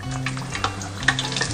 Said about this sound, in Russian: Вот у меня сейчас жарится три кусочка.